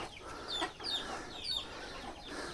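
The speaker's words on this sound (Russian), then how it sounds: "Вон сколько куриц развел." Chickens cluck repeatedly around a soldiers' chicken coop on a rural Cambodian pilgrim trail, with several short, nearby clucks rising and falling over a few seconds and no voices.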